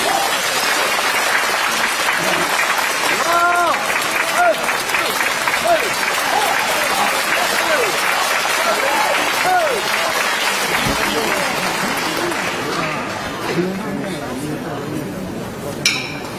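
A concert audience applauds to welcome a Peking opera singer on stage, a loud, sustained roar of clapping throughout with some cheering and crowd voices mixed in.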